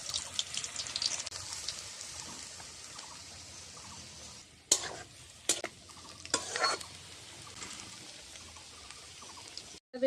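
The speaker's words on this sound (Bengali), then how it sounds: "এদিকে আমার তেলটাও গরম হয়ে গেছে, এখন আমি পকোড়াগুলি ভেজে নেব।" Chicken pakoras fry in hot oil, a low continuous sizzle broken by sharp stirring and scraping knocks midway, with a final sudden bump at the close.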